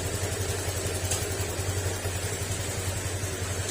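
A car engine idles after a timing adjustment; it had a top overhaul, a loose crankshaft and overheating. The steady low rumble runs evenly and close throughout, with no talk.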